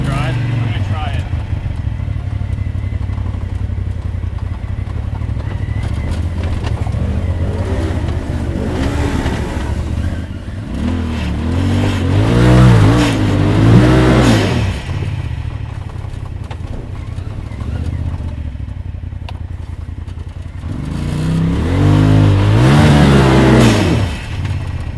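A Can-Am Maverick X3 or Polaris off-road side-by-side revs hard in two-wheel drive while climbing an obstacle, its engine droning loud and close with surging peaks. A voice talks over the engine.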